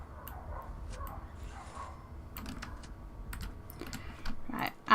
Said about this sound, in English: Oh, more dogs barking.